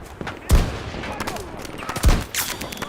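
Gunfire in the shooter game Battlefield 2042, with two loud close shots about a second and a half apart over a busy background of combat noise, and a voice speaking faintly underneath.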